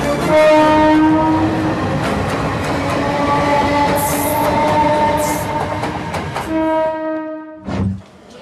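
A train horn sounds in long sustained harmonic blasts at a railway station, loud and close, continuing for several seconds over rumbling rail noise before cutting off, followed by a brief short toot.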